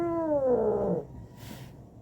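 A stray cat under treatment for an abscess lets out one drawn-out, falling meow lasting about a second, close by, followed by near quiet.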